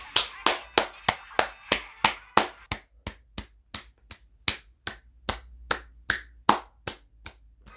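Single pair of hands clapping close up in a slow, even rhythm, about twenty sharp separate claps, celebrating a win in the mobile game Godzilla Battle Line.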